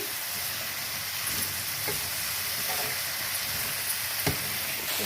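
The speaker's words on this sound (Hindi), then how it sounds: "अब इसको हम फ्राई कर लेंगे, इसको हम अच्छे से मिक्स कर लेंगे।" Cauliflower pieces fry in hot oil with turmeric and chili, a steady loud sizzle throughout with occasional stirring scrapes and small pops, close up and without talk.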